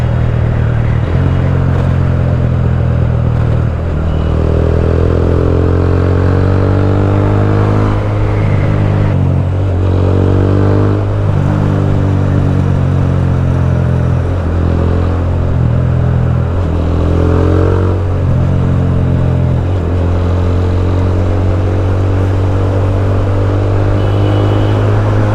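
An Apache RTR motorcycle fitted with a dual exhaust idles with a loud, deep, continuous rumble close by. Several blips of the throttle rev it up and let it fall back.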